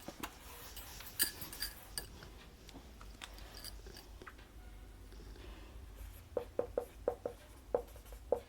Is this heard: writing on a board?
yes